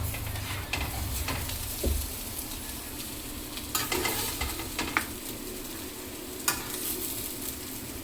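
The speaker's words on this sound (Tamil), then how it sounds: "இப்போ இதை எடுத்துட்டு இந்த கடாயில் கொஞ்சம் ரைஸை போட்டுடலாம்" Rice gets stirred into a sizzling prawn gravy in a kadai, a steady close frying hiss broken by occasional scraping and clinking of a spoon against the pan.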